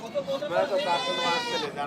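Goats bleat in wavering cries, several calls close together, with people chattering in the background at a livestock goat market.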